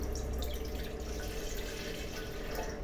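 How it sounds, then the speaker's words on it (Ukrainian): Water pours steadily into a container for bread dough, a continuous splashing gurgle with no speech. "Що ж, наливаємо 300 мл води."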